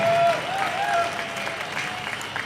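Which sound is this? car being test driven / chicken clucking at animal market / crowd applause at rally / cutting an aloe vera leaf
crowd applause at rally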